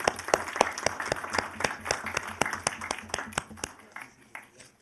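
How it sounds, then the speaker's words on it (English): A small group claps at a city council meeting, sharp distinct hand claps at first that thin out and fade over about four seconds, fairly quiet in a room. "I just want to give a round of applause to the BOSC"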